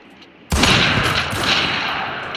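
A grenade goes off in a shooting video game, a sudden loud blast after near silence followed by a long rumbling, crackling decay.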